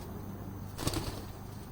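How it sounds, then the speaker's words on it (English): A released racing pigeon beats its wings as it takes off, giving one brief burst of flapping near the middle of the clip over steady outdoor background noise. "Now watch when I let go of this black bird, how it flies away."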